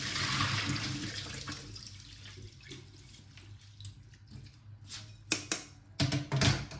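Sushi rice being rinsed in a pot under running tap water, with a steady gush of water fading into softer swishing and a few sharp knocks and splashes toward the end.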